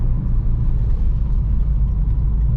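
A 1965 Ford Mustang fitted with Koni Classic shocks drives over bumps, heard from inside as a steady low engine and road rumble.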